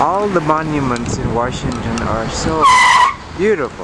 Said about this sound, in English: what you heard was not my voice, it was a car screeching